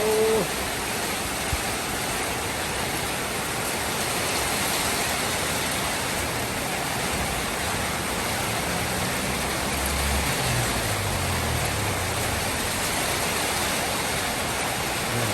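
Steady heavy rain pours down continuously, a dense even hiss with no pauses, close and loud throughout.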